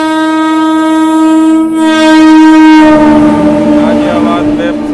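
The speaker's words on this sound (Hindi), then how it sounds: "और सामने से ही ट्रेन आ रही है।" An oncoming passenger train on a railway track sounds a long, loud, sustained horn that holds steady for several seconds, with the rumble of the approaching train building underneath toward the end.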